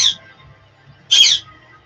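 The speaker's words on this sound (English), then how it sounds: "Birds tripping out on the music." Two short, bright bird calls sound close and loud, one at the very start and another a second later, with a quiet pause between them and no talk.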